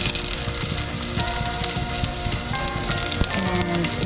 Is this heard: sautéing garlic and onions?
yes